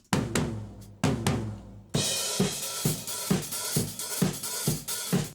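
Drum overhead tracks played dry without reverb: a few sparse hits, then a steady groove of crisp cymbals and snare and kick strikes in a tight, close-sounding small room, with no voices.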